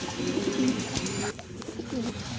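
Andhra pigeons, a pair being mated, coo in low throaty rolling calls, loud and close, repeated through the stretch with clicks and handling noises and no talk.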